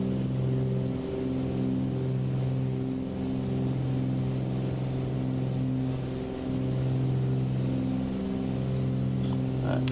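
Twin engines of a Cessna 414 in Microsoft Flight Simulator 2020 drone on in a steady, low, throbbing hum during a flight over Hawaii. The sound is continuous and fairly loud, with slight swells in pitch.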